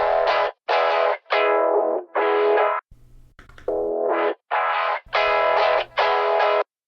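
Electric guitar run through Logic's stock Fat Effects graphic EQ, giving a filtered, midrange-heavy indie rock tone; a choppy series of short strummed chord stabs separated by brief gaps, loud and upfront.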